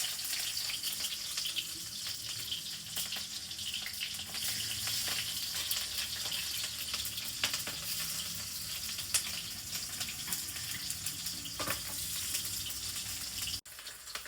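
Onion frying in mustard oil in a home kitchen pan, a steady close sizzle with faint crackles and an occasional clink of utensils, continuous and free of talk.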